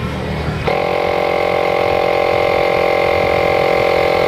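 A Makita MP100DZ cordless air pump switching on abruptly to inflate a motorcycle tire, then running as a loud, steady mechanical motor hum with a buzzing tonal whine.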